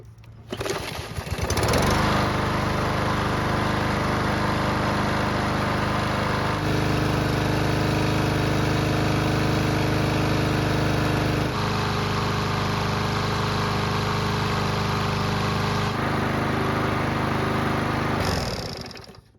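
A Yard Machines lawn mower engine warming up catches after a brief start, then runs steadily at a loud, even drone for about sixteen seconds before cutting off abruptly.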